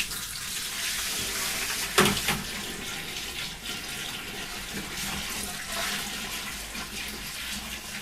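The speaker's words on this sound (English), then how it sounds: "then you just slowly pour your water there" Water is poured slowly from a jug into a small 10-gallon saltwater aquarium, making a continuous splashing, trickling hiss with one brief louder slosh early on. It stays close and steady throughout, with no talking.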